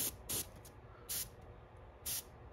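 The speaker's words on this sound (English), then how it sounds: "We're gonna go ahead and spray that pink" Three short bursts of airbrush spray hissing, each about a quarter second, separated by quiet pauses with faint background noise.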